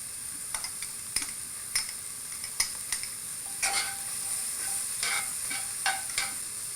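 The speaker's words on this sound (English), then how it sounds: "Let's get some color on these carrots." Diced carrots browning in a pan for slow-braised lamb shanks, a quiet steady sizzle broken by repeated spoon-against-pan clicks and stirring scrapes at uneven intervals, close and with no talking.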